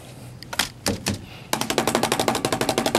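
A paint brush, just washed in thinner, is shaken and beaten against a surface to dry it. A few heavy thumps come first, then a fast, loud, even burst of rapid slaps, close up.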